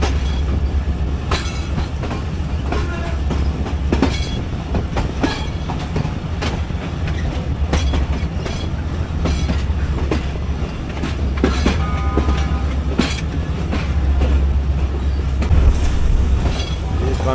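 A ZCU30 diesel locomotive pulls a train from Khanewal toward Lahore, its engine drone steady under rhythmic clickety-clack of wagon wheels on the rails, loud and continuous throughout.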